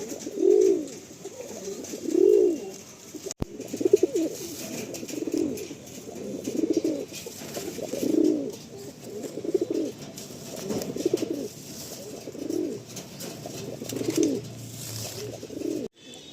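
Loft pigeons coo in a steady series of soft, rounded, repeated calls, close and clear with no talking, one short sharp click partway through.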